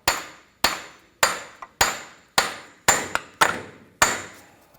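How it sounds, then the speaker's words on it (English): Eight sharp metallic hammer strikes on the front right CV axle of a 2011-2015 Kia Sorento ring out at a steady, even pace, each decaying quickly, with one lighter tap in between. "you can get a hammer up here and you want to hit the"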